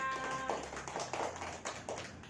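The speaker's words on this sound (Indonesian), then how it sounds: "Tepuk tangan untuk semuanya." A group of participants in an Indonesian community training session clapping together, a dense, steady patter of many hands sustained throughout, fairly close and without talk over it.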